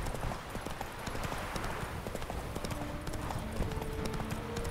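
Horse hooves clip-clop steadily at a riding pace through the whole stretch in The Witcher 3 game world, with faint background music and low ambience behind them.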